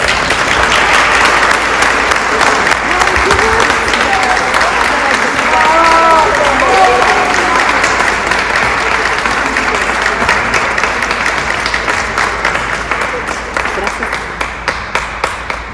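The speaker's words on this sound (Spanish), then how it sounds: "Un fuerte aplauso para ella." Warm applause from a live audience welcoming a speaker to the stage, sustained dense clapping that stays loud throughout and tapers slightly toward the end, with some crowd voices and cheers mixed in.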